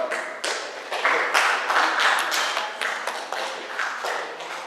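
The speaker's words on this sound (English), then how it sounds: "Get the applause up." A high school audience at a freshman speech applauds, with scattered, uneven claps and taps building into a short burst of clapping in a room.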